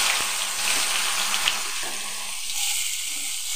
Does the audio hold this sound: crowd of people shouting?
no